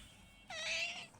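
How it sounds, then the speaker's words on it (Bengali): A single drawn-out cat meow, fairly close and clear, rising then holding for about half a second before fading, with no talk over it. "মিউ মিউ করে।"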